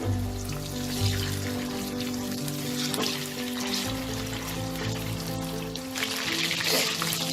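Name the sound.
chicken frying crisp on high flame in wok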